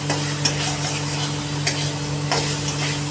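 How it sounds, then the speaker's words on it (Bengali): Fried potatoes cooking with spices in a pan, a loud continuous sizzle broken by periodic clinks and scrapes of a spatula stirring, with a steady background hum. "সেটা কিন্তু ভালো করে কিন্তু আমি মশলার সাথে ভেজে নেব।"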